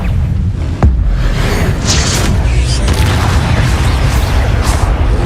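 A heavy booming blast from the Expulso explosion spell in Hogwarts Legacy, with a sharp hit near the one-second mark and then a loud, dense rumble that keeps rolling to the end.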